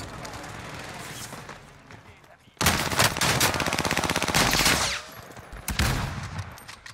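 A weapon fires in the Worms video game: rapid automatic gunfire erupts and rattles loudly for about two seconds, then a shorter burst follows, over background game sound and some talking.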